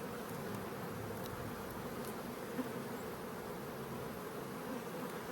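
A honeybee colony buzzes at an open hive during a Demaree split: a steady, dense hum of many bees fills the whole stretch, close and even, with no voices.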